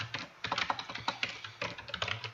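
Rapid, irregular keystrokes on a computer keyboard, close and clear, in quick bursts with a short pause midway, with no voices.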